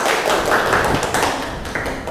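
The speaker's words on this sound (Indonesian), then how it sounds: "kita berikan tepuk tangan kepada Bella" A group gives a short round of applause for a presenter in a class session, a dense, steady patter of many hands clapping together close by.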